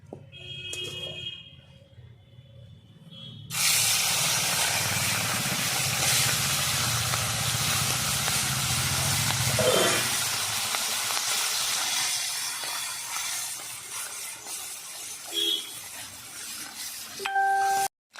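Small morola fish rubbed with salt and turmeric hit hot oil in a wok, setting off a sudden loud, steady hiss of frying that carries on for most of the clip after a quieter opening.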